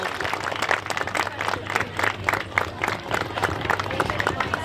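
An audience at a temple festival ceremony claps hands together in a brisk, fairly regular rhythm, a moderately loud crowd of claps with some voices mixed in.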